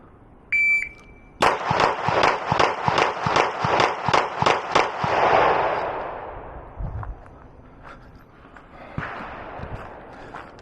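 Glock 19 pistol fitted with a Vantage Point Armory compensator fired in a rapid string of about ten sharp, loud, evenly spaced shots, preceded by an electronic beep from a shot timer and followed by fading echo.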